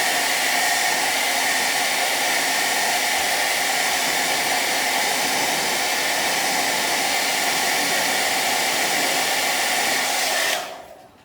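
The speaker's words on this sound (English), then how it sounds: "just using a hairdryer, and this will be noisy." A hair dryer blows steadily and loudly at close range on car window tint, a constant rushing whir that cuts off abruptly at the end.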